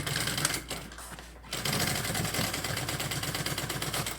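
A sewing machine runs in fast, steady bursts while stitching a backpack lining, pausing briefly before resuming its loud, close, continuous mechanical hum and needle chatter.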